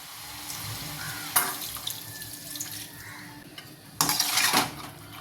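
Water is poured into a cooking pot of broad bean gravy in a home kitchen, in two short splashing bursts. Soft clinks of utensils and pans fill the quieter gaps between them.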